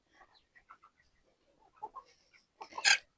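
Laying chickens cluck in a series of short, soft calls while feeding on dug-up earthworms, building to a louder burst of clucking at the end.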